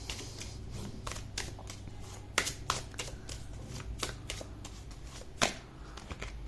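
Tarot cards being shuffled, a steady papery riffling and flicking with several sharper slaps as the deck is cut and a card is drawn, close and alone without talk.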